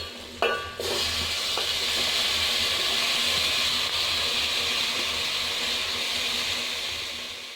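Tomatoes sautéing in a pan for egg biryani make a steady close sizzle and hiss after a brief clatter at the start as they go in, continuing evenly with no talk.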